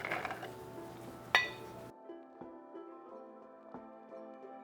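Chickpeas dropping into a container, giving a scatter of clinks and light taps against glass or metal, with one sharper clink and faint ringing afterward, close and fairly quiet.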